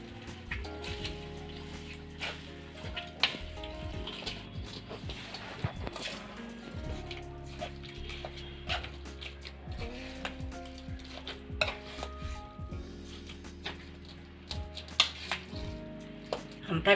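A spoon stirs gongura chutney with oil in a bowl, soft repeated scraping and clinking against the bowl at a quiet level, with faint background hum and no talk.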